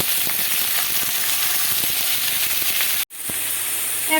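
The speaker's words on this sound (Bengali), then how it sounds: "বাঁধাকপি গাজর আর ক্যাপসিকাম একসঙ্গে আমি এখানে কড়াতে যে তেল দিলাম সেই তেলের মধ্যে দিয়ে দিচ্ছি" Cabbage, carrot and capsicum frying in oil in a wok make a loud, close, steady sizzling hiss with light crackles and a brief dropout near the end.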